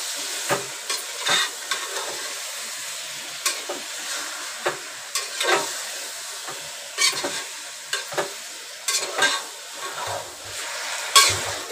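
Mutton being stir-fried with masala in a pan, with repeated sharp scraping stirs over a soft sizzle, irregular strokes close up and no talking.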